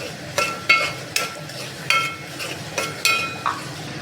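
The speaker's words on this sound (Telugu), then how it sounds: "ఇలా వేసుకున్న తర్వాత కలపాలి" Finely chopped vegetables and tomatoes stirred in a pan, a series of about eight distinct metallic scrapes and clinks of a spoon at an uneven rhythm over a light sizzle, close by.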